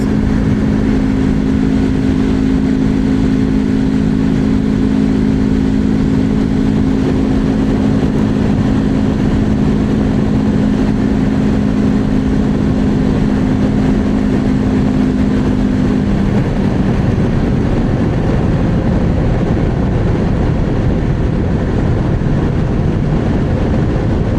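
Loud, constant roar of a Keeway/QJMotor motorcycle engine and rushing wind at about 150 in 6th gear, with a steady droning tone that fades out partway through.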